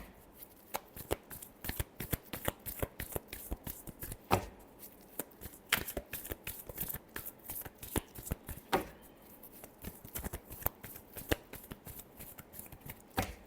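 Tarot cards being shuffled by hand, a quiet, continuous run of crisp riffling flutters and soft slaps repeating for over ten seconds, close and without talk.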